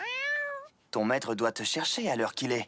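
A lucky-charm cat in the French-dubbed Beyblade Burst animated series lets out one clear, sustained meow, and then a character speaks over the rest of the scene.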